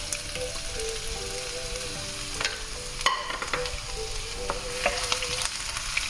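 Chopped garlic frying in hot oil for a hot garlic sauce, steady crackling sizzle with a few utensil scrapes and taps against the pan, no voices.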